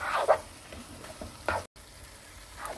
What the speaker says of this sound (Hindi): अब जिंजर गार्लिक को भी हमने 8-10 मिनट तक स्टर फ्राई किया